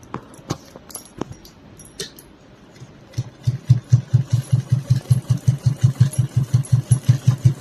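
A sewing machine stitches fabric in a fast, steady run of close thumping strokes. Scattered handling clicks come first.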